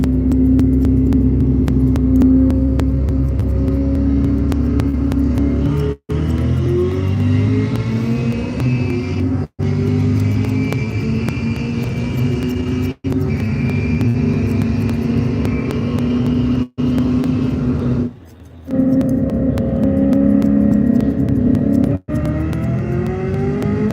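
Ford Mustang on 285 tires accelerating hard in a roll race against a Viper, launching in second gear from about 45 mph, its loud engine note climbing steadily through several gear shifts with brief breaks between pulls.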